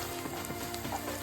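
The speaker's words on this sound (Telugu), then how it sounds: "ఆనియన్ ఇలా కొంచెం పెద్ద పెద్ద ముక్కలు కట్ చేసి వేసుకోవాలండి." Medium-sized onion pieces fry in a pan, giving a brief, even crackling sizzle at moderate volume.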